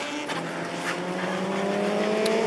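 A racing motorcycle at the 24-hour endurance race passes on the track, a steady engine whine with a rising pitch, held at moderate distance and continuing for the full stretch without talk.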